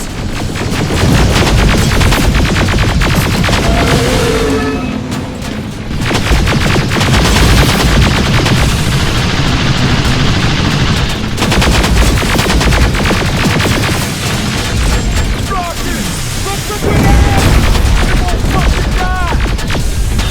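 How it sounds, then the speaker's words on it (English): Sustained heavy gunfire from the video game Terminator Resistance, loud automatic bursts pounding almost continuously with brief lulls, layered over booming combat effects and a few electronic chirps. "Now, shoot before it reboots!"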